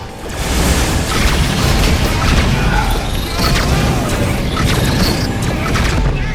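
Missiles exploding during a space battle in the Rebel Galaxy game on Xbox One, a dense rumbling wash of booms, crashes and mechanical clatter, loud and sustained throughout.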